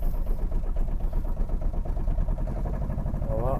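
An Aixam 400.4 microcar's small engine accelerates, a steady close buzzing drone that rises slightly in pitch and grows a bit rough, heard from inside the vehicle.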